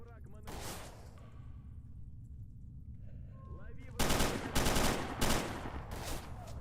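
Bursts of PKM light machine gun fire in the game Stalker Anomaly, hipfired in a hallway. Several loud, rapid automatic volleys arrive in a cluster after a quieter stretch, with steady background game noise underneath.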